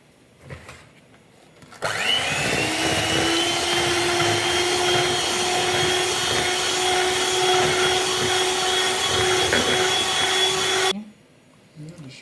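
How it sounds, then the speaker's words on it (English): Eggs being beaten into homemade cake batter, a continuous loud whirring drone like an electric mixer that starts abruptly, runs steadily for about nine seconds and cuts off, with quiet room sound around it. "You add a second egg and whisk it again."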